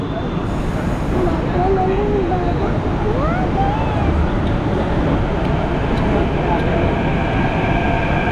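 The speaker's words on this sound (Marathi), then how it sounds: "चला मेट्रो आली" A metro train rumbles steadily and loudly into a station, with faint wheel squeals rising and falling and a murmur of voices in the background.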